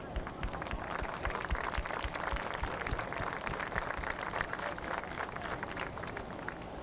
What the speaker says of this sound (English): can we please get a big round of applause?